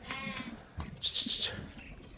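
Lambs of a broad, floppy-eared breed bleat a few times in quick succession, wavering cries close by, with some faint background noise between calls.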